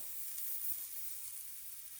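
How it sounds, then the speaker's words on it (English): Quiet, steady sizzling of pancake batter frying in a hot pan, an even crackling hiss throughout with no talking. "Listen to that sizzle."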